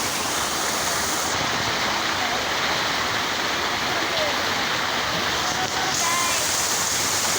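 Fountain water splashes in a continuous, dense rush of broadband hiss, steady and fairly close with no pauses.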